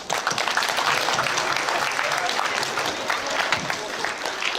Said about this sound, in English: Give Rimu a big clap.